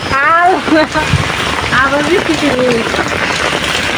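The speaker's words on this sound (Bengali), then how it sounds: "আবার বৃষ্টি শুরু হয়েছে" Steady rain from Cyclone Remal in Chittagong pattering on a surface, dense and fairly loud, with a voice speaking over it at the start.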